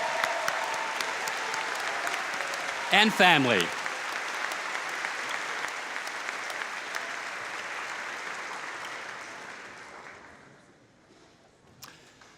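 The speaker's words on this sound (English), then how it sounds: "They can all stand up and give themselves a round of applause." Audience applause fills a graduation honors convocation for a school of architecture as parents stand, a steady broad clapping that runs for about ten seconds before fading, with a short spoken phrase partway through.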